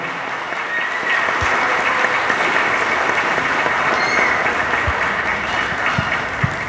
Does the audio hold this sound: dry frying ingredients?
no